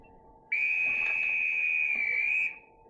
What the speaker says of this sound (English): the next time you hear this whistle